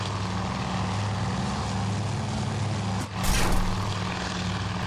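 Aircraft engines in the naval combat game Task Force Admiral, a steady propeller drone with a low harmonic hum, plus a brief rushing swell near the end, continuous and without speech.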